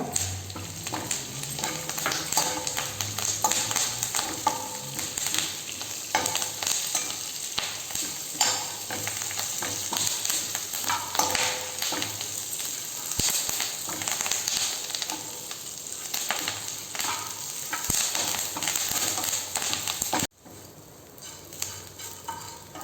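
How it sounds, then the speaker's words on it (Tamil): Curry leaves frying in ghee until crisp, a steady bright sizzle with occasional stirring scrapes, close and continuous before dropping away abruptly near the end. "நம்ம ஒரு கைப்பிடி அளவுக்கு கருவேப்பிலை அதே இது கூட போட்டு நம்ம நல்லா மொறு மொறுன்னு வர்ற வரைக்கும் வறுத்துக்கணுங்க"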